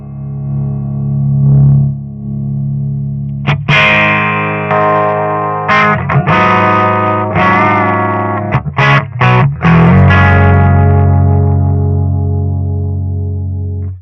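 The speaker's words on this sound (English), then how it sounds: "We're going to hear this with a tiny bit of dirt." Electric guitar through a Splawn Quick Rod amp set for slight distortion: a soft opening note, then crunchy strummed chords and picked accents, ending in a long ringing chord, with no talking.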